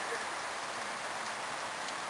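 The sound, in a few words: rain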